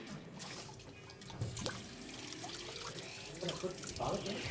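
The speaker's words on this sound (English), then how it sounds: "let me get a roller. Let me rinse this one." A paint roller rinsed under running water: a continuous splashing flow with brief drips and trickles, fairly close, with no talk over it.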